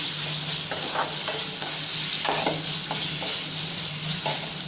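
A spoon stirs mushroom fry in a pan with fried onions and ginger-garlic paste. Scrapes and clinks come at an uneven pace over a constant loud sizzle, with no voice.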